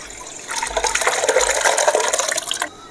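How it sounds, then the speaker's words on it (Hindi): Whey pours and drains steadily as fresh chhena is strained through cotton cloth set over a pot for Diwali sweets, a close liquid splashing that runs about two seconds, then stops. "हम छेना छानने के लिए स्टेप तैयार कर लिए हैं, बर्तन में कपड़ा लगा लिए हैं कॉटन का"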